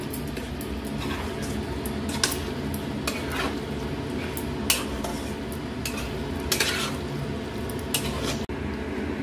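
Chicken coated in Kashmiri chilli powder and masala is stirred in a pan, with an ongoing low sizzle and a scattering of sharp spoon-on-pan clinks and scrapes at irregular intervals, no voices.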